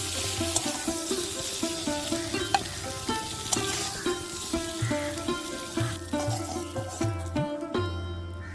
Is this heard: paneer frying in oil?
yes